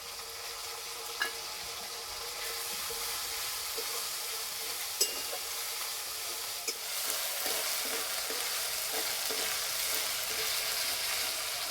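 Onion fries with ginger and garlic paste in a pan for chicken curry, a steady close sizzle and crackle that runs throughout, with occasional light stirring scrapes and clicks and no voices.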